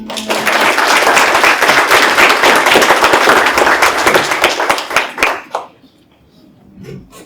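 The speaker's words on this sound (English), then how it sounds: "Please give Sarah a round of applause." A crowd at an awards ceremony for an essay and creative arts contest applauds loudly and densely for about five seconds, then the clapping thins to a few scattered claps and quiets.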